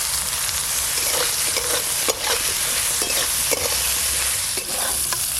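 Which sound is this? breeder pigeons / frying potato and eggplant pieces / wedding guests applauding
frying potato and eggplant pieces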